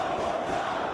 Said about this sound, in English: Fans are chanting one more time.